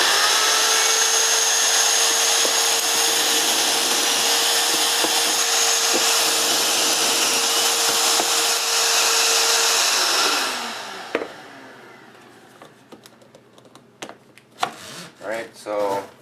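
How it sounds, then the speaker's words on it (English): A drill runs steadily while boring pocket holes with a Kreg Jig Master System K4MS, a loud continuous whine with a dust hose attached, then stops, followed by clunks and handling noises. "Okay, the drill, it's all set up, ready to go."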